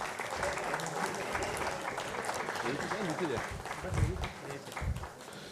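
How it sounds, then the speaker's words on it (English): A hall audience at a national conference on capital markets gives a sustained round of applause welcoming a guest, dense and steady clapping with a few voices mixed in. "Let's welcome with a big round of applause."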